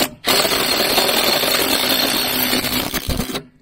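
A pneumatic impact wrench loosens a car wheel nut in a garage, one continuous loud, close burst of rapid hammering whir lasting about three seconds before cutting off abruptly.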